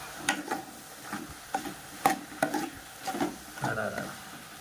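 Ginger garlic paste frying in a pan for a pork curry, stirred with a utensil: soft scraping strokes and light sizzling in irregular bursts, close and fairly quiet.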